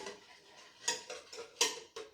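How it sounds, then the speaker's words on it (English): Scone batter for pumpkin scones stirred in a bowl, a few distinct spoon clicks and scrapes against the bowl in an uneven rhythm, close and fairly quiet. "So just in the bowl, we're just gonna stir them, stir all the ingredients, and just mix them up."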